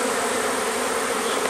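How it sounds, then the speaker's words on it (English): Bees buzzing in a dense, continuous drone, a steady swarm-like hum that holds at even loudness for the whole moment, with no voices. "Or bees."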